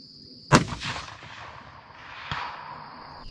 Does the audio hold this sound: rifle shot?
yes